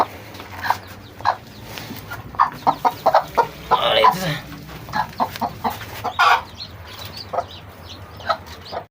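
Native chickens cluck in short, repeated bursts close by, with a rooster-like call standing out midway over a steady low hum.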